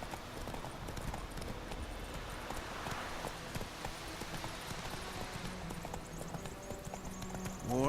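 Hooves of a horse in The Witcher 3 video game clip-clop at a steady walking rhythm, moderately close, over a low ambient game soundscape.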